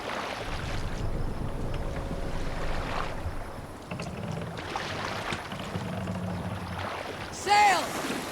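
A boat sails in Assassin's Creed Valhalla, with a wash of wind and water rushing steadily at moderate volume and a brief brighter burst near the end.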